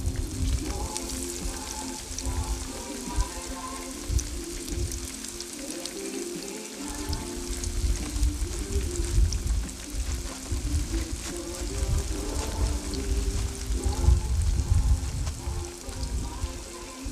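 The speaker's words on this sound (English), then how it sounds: "So, fry tayo ng zucchini." Fresh garden zucchini frying in hot oil gives a steady, crackling sizzle with scattered pops throughout, close by and unbroken by talk.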